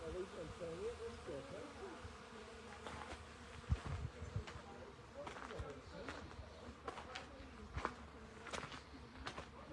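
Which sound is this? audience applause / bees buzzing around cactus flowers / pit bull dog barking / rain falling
bees buzzing around cactus flowers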